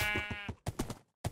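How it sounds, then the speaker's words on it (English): Sheep in a Minecraft-style animation bleating, one long wavering bleat followed by a few short, close, rhythmic bursts separated by brief silences. "Okay, here's a sheep."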